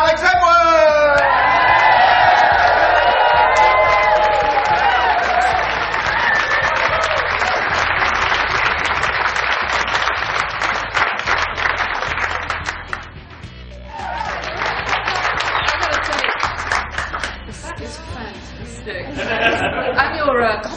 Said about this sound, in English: Applause, please, for Charlie Biden and Alex Edwards!